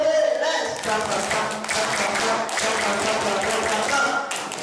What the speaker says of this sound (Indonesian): Sekali tepuk pramuka itu berarti 13 ya.